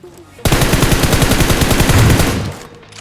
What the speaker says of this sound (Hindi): मेरा टीममेट किसी पे गोली चला रहा होता है